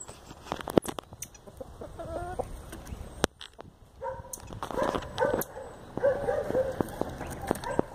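A chicken clucks in repeated short bursts, with sharp knocks and thumps mixed in and a busy outdoor background, fairly close and moderately loud, with no talk.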